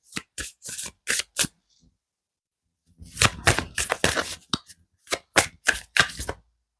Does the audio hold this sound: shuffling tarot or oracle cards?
yes